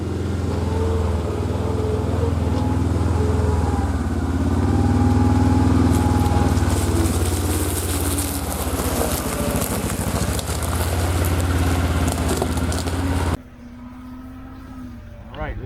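Kawasaki Mule Pro FX utility vehicle engine idling steadily with a low, constant drone, loud and close, until it cuts out abruptly near the end, leaving a quiet background.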